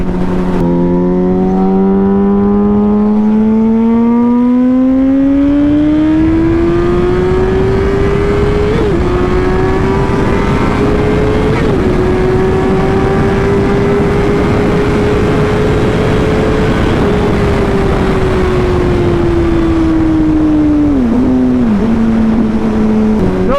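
Motorcycle engine droning steadily while riding along a road, its pitch rising slowly then easing back down near the end, with heavy wind rush throughout and no talking.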